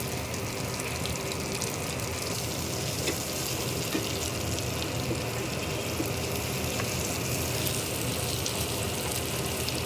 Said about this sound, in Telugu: ఇవన్నీ బాగా వేగినాయండి డ్రై ఫ్రూట్స్ అంతా.